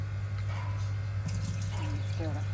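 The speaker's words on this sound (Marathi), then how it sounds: "सगळं धुवून घेऊन नंतर मग बनवायचं आपण मच्छी धुवून घेतली आहे" Fish being rinsed and washed in water for a seafood dish, with steady running and splashing water throughout, close and continuous, while voices speak over it.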